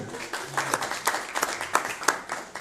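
Crowd applause with scattered, uneven claps filling the space, fairly close and moderately loud, continuing steadily throughout.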